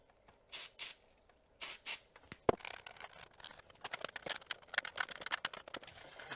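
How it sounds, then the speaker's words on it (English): Contact cleaner sprays into the cartridge slot and switches of a 1970s game console in short hissing bursts, two pairs of close, sharp sprays followed by a click and a scatter of small taps and rattles. "So I'm going to put some contact cleaner into the cartridge slot just to try and clean that up, and into some of these switches here"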